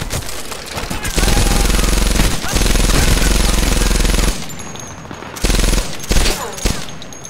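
Machine gun fire in Medal of Honor: Airborne, a loud sustained burst of rapid shots that cuts out, then short bursts follow with brief gaps between.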